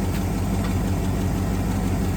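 A 1963 AMC 287 V8 engine idling in park at about 720 RPM, a loud, close, steady low rumble with even pulsing throughout the short stretch.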